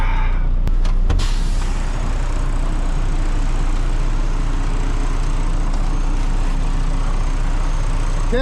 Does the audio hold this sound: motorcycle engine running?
yes